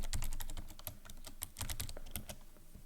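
A password typed on a computer keyboard, a rapid irregular run of close, crisp key clicks with brief pauses between bursts.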